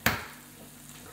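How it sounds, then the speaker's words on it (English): An egg drops into a hot Anko 32cm stainless steel frypan with a sharp crack and splash, then settles into a quiet, even sizzle that brightens slightly at the end. "Crack an egg in there."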